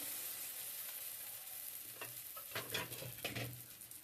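Pitha batter frying in oil in a kadai wok: a quiet low sizzle that swells into louder crackling bursts partway through, close up, with no talk.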